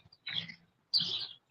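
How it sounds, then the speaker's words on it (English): A bird gives two short chirps about half a second apart, each a bright burst of calls, fairly faint against a silent background. "You got birds chirping."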